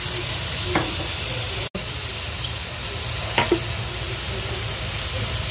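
Food fries in a pan for mapo tofu, a continuous close sizzle and hiss with a couple of brief utensil clinks and stirring scrapes, and a momentary cut in the middle.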